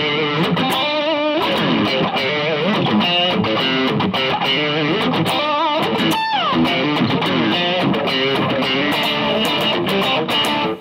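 A Cort G300 PRO electric guitar on its neck pickup, played through a distortion pedal with the saturation turned down, gives a continuous stretch of full, lightly overdriven chords and single notes, loud and even throughout.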